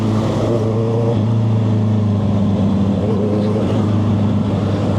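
A Honda CB650R motorcycle engine runs steadily while riding, with a deep, continuous hum and slight shifts in revving, loud and close throughout.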